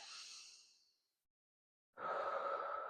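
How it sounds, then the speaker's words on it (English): Deep breathing during a core and pelvic floor exercise: one long breath fades away, a silent pause follows, then a second strong, close breath begins. "we're gonna take 10 deep breaths all together"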